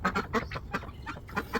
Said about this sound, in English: That was more of a honk. Right now it's just a little high pitch, but they're louder already.